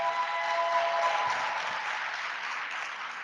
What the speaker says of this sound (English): let's clap it up for Ms. Ann Hunt Rogers.